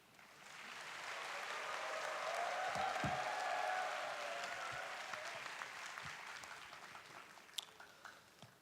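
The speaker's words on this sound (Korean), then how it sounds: "목사님 나오실 때 뜨거운 박수와 환호성으로 맞이하겠습니다" Applause and cheers from a congregation at an army training center baptism service welcome a pastor to the stage, swelling to a steady roar, then gradually fading, with a few scattered claps at the end.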